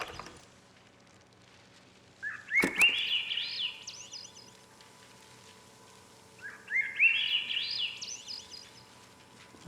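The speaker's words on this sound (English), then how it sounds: "There's some fucked up sounding birds." Birdsong in the game Season: A Letter to the Future, two separate rising warbling calls a few seconds apart, each with quick chirping twitters, heard over a quiet outdoor background.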